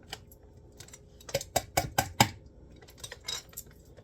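Metal measuring spoons grabbed and jangled together in a kitchen, a quick cluster of bright clinks and rattles in the middle, then a few softer taps, no talking.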